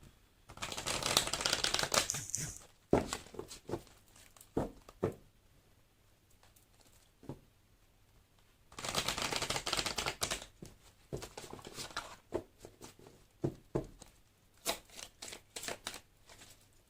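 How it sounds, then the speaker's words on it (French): Oracle fairy cards are shuffled by hand for a card reading, two long bursts of dense riffling near the mic separated by scattered single taps and soft card handling, no talk. "on va faire le tirage pour la jumelle, et pour ça on va utiliser l'oracle des fées de Dorine Virtue."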